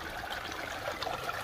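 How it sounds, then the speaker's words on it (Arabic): Water running through a farm irrigation channel between fodder-crop basins, a soft continuous trickle with small bubbling spikes, low and close, no talking. "هذا الماء يجري من هنا"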